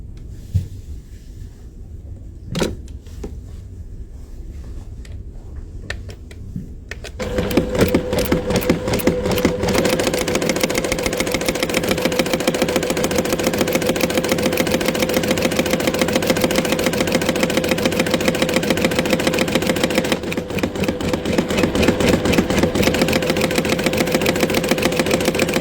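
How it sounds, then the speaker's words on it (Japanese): A JUKI semi-professional sewing machine stitches a bar-tacked buttonhole on a shirt front placket. The motor runs with a steady, rapid, loud mechanical whir close to the microphone after a quieter start, with a brief pause near the end. "シャツの前立て部分に両冠止めのボタンホールを縫っていきます。"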